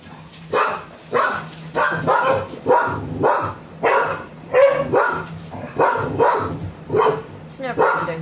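A dog barks repeatedly in steady bursts, close and loud, roughly one bark or yip per second, with some whimpering in between.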